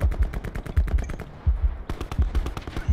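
Rapid automatic gunfire in a Call of Duty Blackout squad match, loud bursts of rattling shots with a brief pause before another sustained volley.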